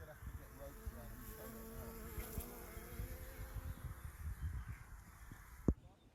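Honeybees hum steadily around the entrance of a hive, a continuous close buzz filling the air, with a sharp knock near the end.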